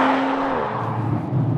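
An Audi RS5 Sportback's turbocharged engine, its note partly synthetic, pulls hard out of a corner, a loud, close, droning roar with a steady tone that shifts lower partway through.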